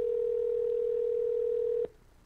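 Telephone dial tone: a single steady, loud, unbroken tone held for nearly two seconds, then cut off abruptly by a click as dialing begins, leaving faint line hiss.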